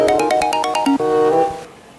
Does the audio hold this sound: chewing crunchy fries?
no